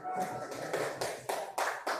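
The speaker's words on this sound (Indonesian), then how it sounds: "Tepuk tangan untuk kelompok yang menyaksikan." A small group in a classroom session claps, a brief patter of hands with distinct, roughly regular bursts about every quarter second, moderately close and fairly quiet.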